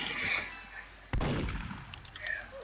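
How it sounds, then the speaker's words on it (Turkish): A single gunshot fires in the Roblox game Murder Mystery 2, one sharp crack that rises abruptly out of ambient game sound and then trails off. "Oğlum Şerif düzgün birisini vurdu lan."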